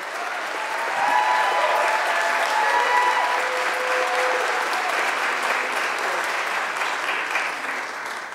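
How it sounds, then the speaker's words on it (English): Crowd applause at a Poor People's Campaign rally: a full, even roar of many hands clapping at once, steady and fairly loud for about eight seconds, with faint cheering voices mixed in. "It's totally appropriate to clap now."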